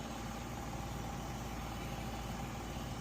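A 2003 Honda Odyssey engine idles after a timing belt and water pump replacement, a faint, steady, even hum with a low rumble and no voices.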